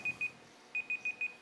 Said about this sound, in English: The alarm is going off.